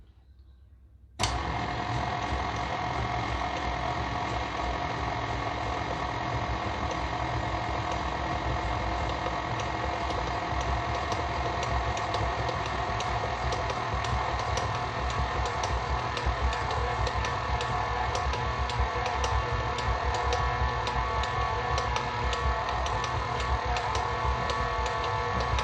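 Electric mixer mixing kringla batter, a steady loud whirring motor hum that switches on after a second of quiet and runs continuously without break.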